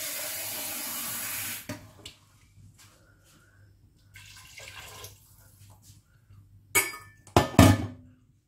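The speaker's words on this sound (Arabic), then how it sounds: "دابا غادي نغليو ونديرو الماء باش نقدرو بالماء" Water runs into a pressure cooker in a home kitchen, a short steady pour that stops. Scattered faint knocks follow, then a few louder clanks of metal cookware near the end.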